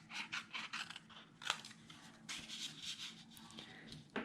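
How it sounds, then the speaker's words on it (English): Paper pieces being snipped off a scrapbook layout with scissors: a run of short, crisp cuts with crunchy, rustling texture, close and fairly quiet, with a few sharper snips standing out. "I think I'm just going to go ahead and cut these off."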